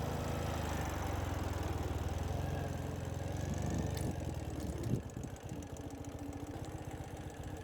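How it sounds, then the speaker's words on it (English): A 2018 Ural Retro M70 Flat Black Custom motorcycle idles steadily as its engine warms up, a low, even chugging throb that continues throughout without talk. "And as the engine warms up,"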